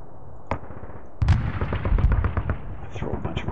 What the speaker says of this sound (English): Throw a bunch of artillery into it.